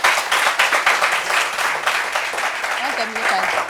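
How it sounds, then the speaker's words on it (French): A crowd claps steadily for a few seconds, fairly loud and close, with a voice briefly audible near the end. "Donc, applaudissements pour elle."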